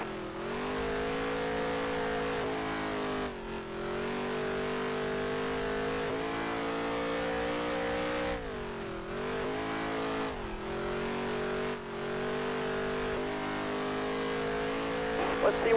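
A NASCAR race car engine from the video game NASCAR Heat 3 holds a steady high-pitched drone through a fast lap, dipping briefly at several points as it lifts for corners before climbing again.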